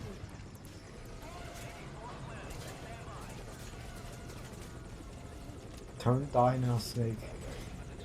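A helicopter's rotor drones steadily in the background of a video game throughout, while a voice speaks briefly near the end.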